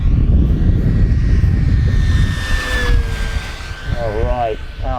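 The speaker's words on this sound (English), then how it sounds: "Give you another fast pass down the runway." An FMS 1450mm P-51 RedTail radio-controlled model warplane makes a fast pass down the runway, its electric motor whining loudly with a rising and falling pitch over heavy wind noise, while someone talks partway through.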